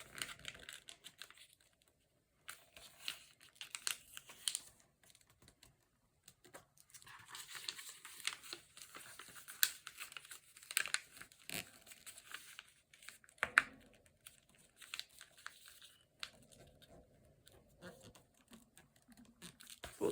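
Magazine paper being folded over at the margins, top and bottom, for a junk journal page, heard as close, soft crinkles and creases in short bursts with pauses.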